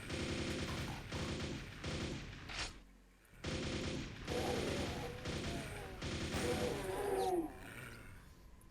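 Chain gun in QDoom, a Doom conversion played in Quake Anniversary Edition, hammering out a loud, sustained stream of rapid shots, cut by a brief pause and then resuming, with creature roars and crashes mixed in toward the end.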